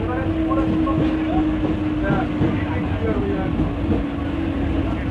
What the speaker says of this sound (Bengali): এখন আমাদের ট্রেন ছেড়ে দিল কাঁকড়া মির্জানগর থেকে